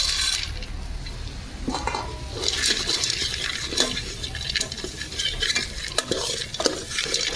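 Steady scraping and stirring of spices and fried sandge lentil dumplings in a pan with a soft sizzle underneath, occasional clinks of a spoon against metal, no voices.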